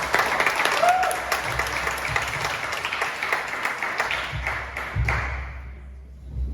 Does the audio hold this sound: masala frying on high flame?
no